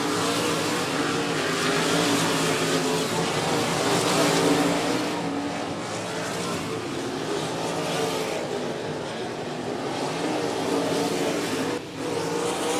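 Race cars roaring around the 105 Speedway oval, a dense continuous engine drone that swells and fades slightly as the pack passes, loud and sustained with no talk.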